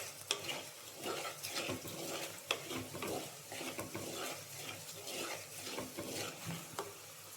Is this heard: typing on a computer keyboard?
no